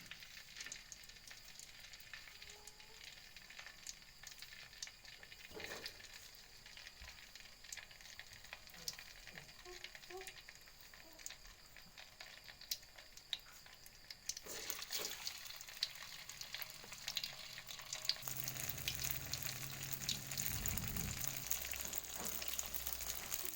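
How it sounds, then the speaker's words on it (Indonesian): Pempek fish cakes frying in hot oil, a quiet continuous sizzle and crackle that swells noticeably louder toward the end with bubbling and hissing. "sudah panas, kita masukkan pempek untuk digoreng ya."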